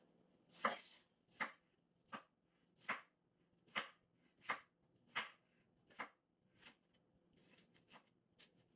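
A knife slices through vegetables on a cutting board in about ten evenly spaced, crisp cuts, close and distinct against a quiet background, fading slightly toward the end.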